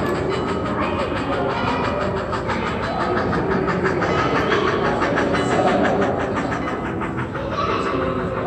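A model RFP steam train runs along its layout track, a steady rolling rattle with rhythmic clicking wheel noise that holds at an even, fairly close level throughout, with no talk over it.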